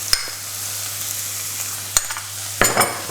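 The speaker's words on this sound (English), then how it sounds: "I'm going to put the flour in at this point." Plain flour is stirred into onions frying in oil, giving a steady soft sizzle broken by a few sharp scrapes and clinks of the spoon against the pan.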